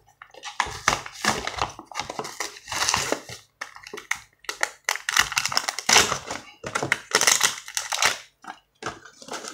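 Packaging for a model car crinkles and rustles in irregular bursts as it is unpacked close by, with a person talking intermittently.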